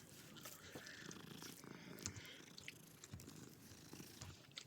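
A black cat in the Hogwarts Legacy video game purrs steadily while being petted, a soft continuous rumbling throughout with faint clicks and no voices.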